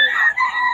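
A bullstag rooster crows at a chicken market, one short, bright, strained call heard close and alone.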